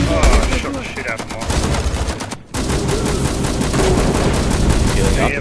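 Sustained bursts of rapid gunfire in the video game The Culling, loud and close with a brief break midway, while a player talks over it.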